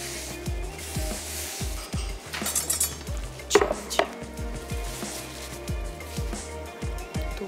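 Knife chops capsicum and spring onion on a board in a quick, irregular series of soft thuds, close by, with a clatter of kitchenware in the middle and light background noise.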